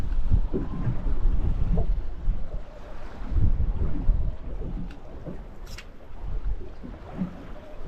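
Strong wind buffets the microphone on open sea from a fishing boat over wrecks and reefs, a loud continuous rumbling roar with gusting swells and faint water wash, no talk.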